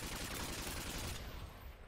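Sustained burst of AK-47 automatic fire in a video game, dense and loud with rapid overlapping shots, easing off toward the end.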